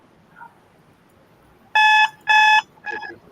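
A quiz-show buzzer at an insurance quiz finale gives three short electronic buzzes in quick succession, loud and tonal against a quiet room.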